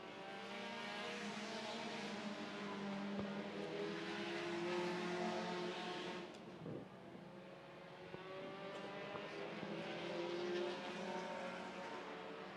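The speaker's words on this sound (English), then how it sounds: "Still Nigel Raymond making that 13 car as wide as he can around the speedway with 22 laps in the books and 13 to go" Race cars lapping a speedway during a main event, engines droning loud and continuous as the pack circles, with pitch rising and falling as cars pass.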